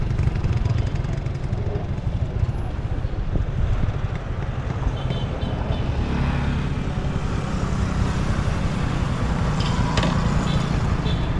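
A motorcycle engine running with a steady low rumble and wind buffeting the microphone, continuous and close throughout.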